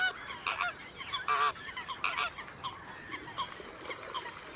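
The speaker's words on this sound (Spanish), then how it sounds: "Cientos, quizá miles de fochas trompetean por la laguna." Coots call over a lagoon, a dense chorus of honking, trumpeting notes overlapping from many birds at varying distances, with no voices.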